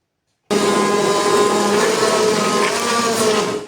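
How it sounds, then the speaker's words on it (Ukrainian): An immersion blender purees cooked blackcurrants, starting abruptly after a brief silence and running as a loud, steady, close motor whir with a slight drop in pitch near the end. "Тепер збиваю погружним блендером до однорідної маси."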